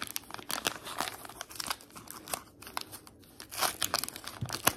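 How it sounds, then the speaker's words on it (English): A 1983 Fleer baseball card wax pack is torn open up close, giving a continuous crinkling and crackling of waxed paper with sharper tearing snaps, loud and dry throughout. "As you see when we open it up, some of them open up real easy."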